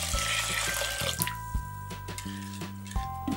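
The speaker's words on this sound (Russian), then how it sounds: "На 500 грамм риса я добавляю 550 миллилитров воды комнатной температуры." Room-temperature water poured into a pot of rinsed round short-grain rice for sushi, a steady splashing, trickling stream heard alone.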